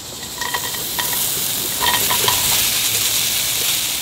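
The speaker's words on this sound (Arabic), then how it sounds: "نقلب البصل بعد ما حمسنا البصل" Onions sauté without oil for Kuwaiti machboos, sizzling steadily in the pan while a utensil stirs them with a few quick scraping taps.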